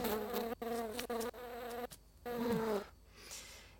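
Insects such as flies or mosquitoes buzz loudly and close in a continuous drone, broken by a few brief gaps and a pitch wobble, fading near the end.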